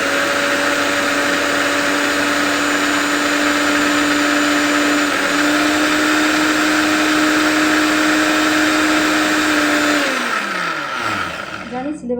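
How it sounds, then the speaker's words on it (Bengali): A Bajaj mixer grinder grinding poppy seeds whirs loudly and steadily at close range for about ten seconds, its motor pitch dipping slightly once, then winds down and rattles to a stop. "ঠিক আছে, আমি বাটছি এখন"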